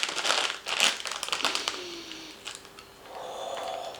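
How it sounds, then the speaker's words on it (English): Crinkling of a NASA-style foil snack pouch of Australian crackers, loud crackly bursts in the first second and a half, then quieter rustling handling with a faint tone and soft background. "It's in the NASA-style foil pouch"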